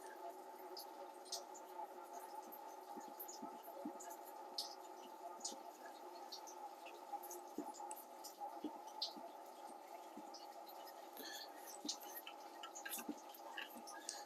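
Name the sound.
coolant draining from Jeep Wrangler radiator hose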